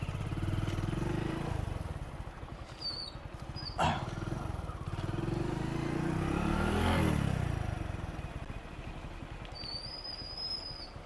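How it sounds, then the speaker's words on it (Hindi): A motorcycle popping a wheelie and shifting gears: the engine drones steadily, climbs in pitch as it revs, then drops back after the shift, with a brief sharp click partway through. "ये मैंने व्हीली को पॉप किया और ये गियर शिफ्ट करके मैंने बाइक को नीचे रख दिया।"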